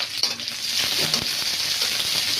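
Crushed garlic sizzling in a little hot oil while tempering for a Chinese vegetable dish, a steady, loud, bright hiss and crackle throughout with faint stirring scrapes.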